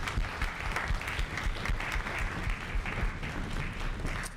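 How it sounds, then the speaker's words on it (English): A school concert audience at a Bronxville High School orchestra event gives a round of applause, dense continuous clapping with a low rumble of the room underneath, steady throughout and somewhat distant. "can we please give a huge round of applause for our parents and families in the audience?"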